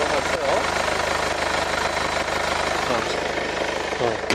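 A Mercedes-Benz GLA's 2000cc engine idles nearby with a steady, even rumble and hum that holds throughout.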